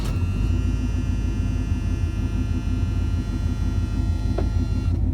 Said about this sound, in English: And start the car.